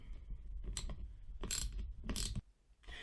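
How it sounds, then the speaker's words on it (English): A hand ratchet snugs down the mounting bolts of a trolling motor, three quick bursts of close clicking spaced about a second apart, quiet overall. "take the ratchet and then snug those bolts right back down"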